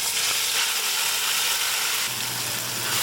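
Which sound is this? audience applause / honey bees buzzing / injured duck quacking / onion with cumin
onion with cumin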